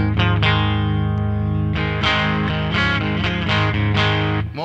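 Distorted electric guitar through an MXR Distortion+ pedal into an Astoria amp, loud strummed chords held and re-struck in an even rhythm, thick and sustained from start to finish.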